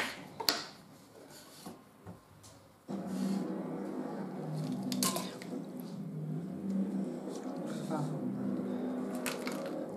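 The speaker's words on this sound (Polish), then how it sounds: "Teraz to tak w tej wodzie obierać." A pomegranate being peeled by hand in a bowl of water, with steady sloshing and splashing that carries on after an early knock, as someone talks over it.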